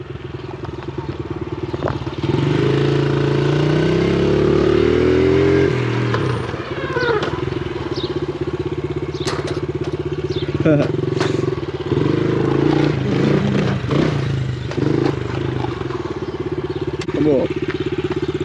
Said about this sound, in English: This is first time riding a real dirt bike though.